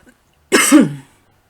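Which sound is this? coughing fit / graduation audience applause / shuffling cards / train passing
coughing fit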